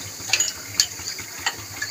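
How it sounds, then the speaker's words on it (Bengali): Black cumin being stirred and fried in hot oil, with a soft steady sizzle under a few light clinks of a spatula against the pan, close and without talk. "একটু নাড়াচাড়া দিয়ে ভেজে নেব।"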